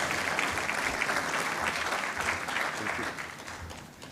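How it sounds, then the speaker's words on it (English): Steady applause from a large audience at an official EU event, dense clapping that holds throughout and tapers slightly toward the end. "A round of applause for him"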